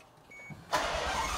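A car engine that is already warm cranks and fires after a quiet interior lull, then settles into a loud, steady run close by, with no talking.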